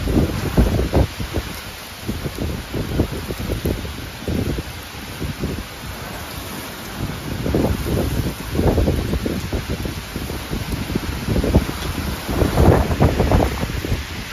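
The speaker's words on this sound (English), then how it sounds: "The winds are going crazy right now." Strong nighttime downburst winds amid torrential rain roar in repeated gusts, buffeting the microphone with deep, close rumbles that surge and fade every second or two over a constant rushing background.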